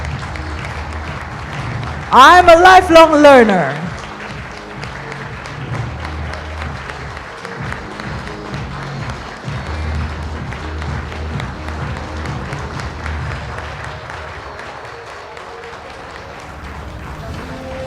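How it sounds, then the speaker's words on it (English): A conference audience gives a standing ovation, with steady applause running under a brief spoken line and a loud vocal passage near the start, then crowd clapping and shuffling that continues throughout. "please rise, give a standing ovation, give applause"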